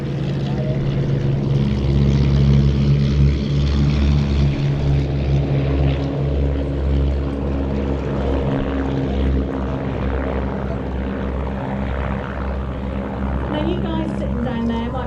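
Steady, droning engines of propeller aircraft flying in formation at an airshow roar continuously at close range, a deep throbbing hum that holds level throughout.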